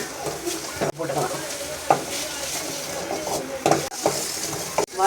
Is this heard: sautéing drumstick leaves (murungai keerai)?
yes